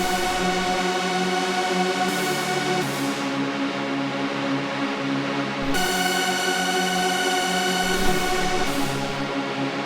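A dense, bright "Mega Lead" synthesizer preset plays a phonk lead melody continuously, with buzzy sustained tones that shift pitch every few seconds, loud and unaccompanied by talk.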